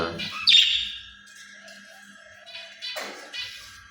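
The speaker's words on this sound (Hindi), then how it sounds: "बोल रहे हैं हमारी मैना, हमारी मैना बोल रही है" A common myna calls close by with a loud squawking chirp, then a few quieter warbling notes and another burst of sharp calls, with short silent gaps between.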